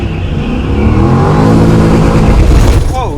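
Holden VY SS fitted with 3.9 diff gears revving hard for a burnout, a loud, sustained engine roar building steadily and close by, with a brief rising whine near the end.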